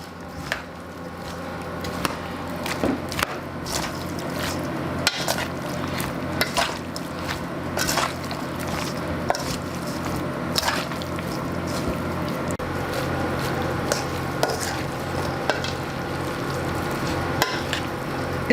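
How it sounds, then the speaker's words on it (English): Melted cheese for a potato casserole is stirred in a pot, a continuous soft wet churning with scattered light clicks of the utensil against the side. "And then just stir it up."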